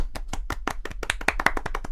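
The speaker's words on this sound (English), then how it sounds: "let's have a little round of applause for Julian" A small round of clapping for a model railway challenge entrant, a few pairs of hands giving quick, evenly spaced claps at close range for about two seconds.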